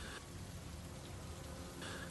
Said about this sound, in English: a relentless cold rain had been falling for weeks, making the surrounding ground muddy and bleak